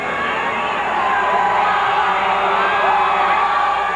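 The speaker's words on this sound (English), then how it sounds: "The crowd is unbelievable." A large crowd of fans gathered outdoors to watch a Blue Jays game on a Jumbotron, a dense, continuous roar of voices and cheering heard from within the throng, steady and loud throughout.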